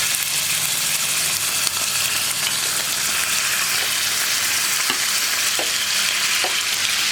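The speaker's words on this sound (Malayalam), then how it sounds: "റൈസ് കുക്കാവുന്ന സമയത്ത് തന്നെ നമുക്ക് ചിക്കൻ ഒന്ന് ഫ്രൈ ചെയ്തെടുക്കാം" Marinated chicken pieces shallow frying in oil in a pan, giving a loud, dense, continuous sizzle that fills the whole stretch, with a few faint spatula taps near the end and no voices.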